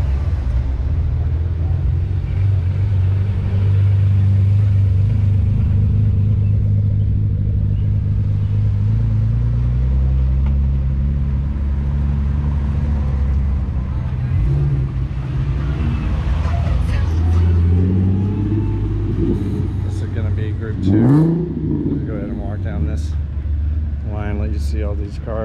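A group of cars pulls out together for a highway cruise at a Z-Fest car meet, engines rumbling steadily up close, with one revving louder near the end while people talk over the low drone.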